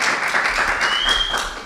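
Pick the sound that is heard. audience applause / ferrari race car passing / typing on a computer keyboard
audience applause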